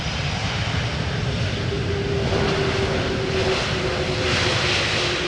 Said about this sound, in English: This is Turkish Airlines flight 1951.